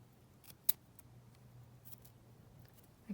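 Scissors give a few faint, crisp snips while trimming a specimen slide craft piece, spaced out over a quiet background with no talking.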